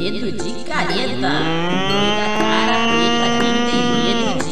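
A cartoon ox in an animated Brazilian children's song lets out a long, loud, drawn-out moo that bends in pitch and carries on for several seconds over the music.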